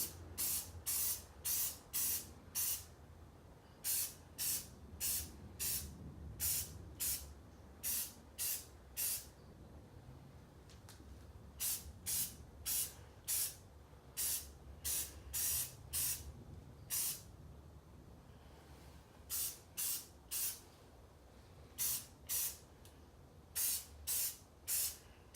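A spray can of paint is applied to a car's body in quick, hissing bursts. The close, sharp sprays come in clusters of several short pulses separated by brief pauses, repeating steadily throughout with no talking.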